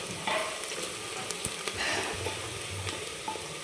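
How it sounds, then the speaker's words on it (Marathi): Onions frying over a full flame for Maharashtrian mutton rassa, a fairly quiet, continuous sizzle with occasional light clicks and scrapes of stirring. "एकदम फुल गॅस केलेला आहे आणि आपण कांदा तळून घेतोय आता."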